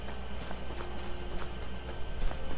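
Horse hooves clip-clopping in Skyrim, a steady close rhythm of hollow knocks over a constant low background hum, with no talking.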